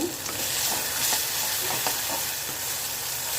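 Garlic and green chilies cook in tamarind in a pan, a steady soft sizzle and hiss with a few faint stirring taps, heard close and alone without any voices.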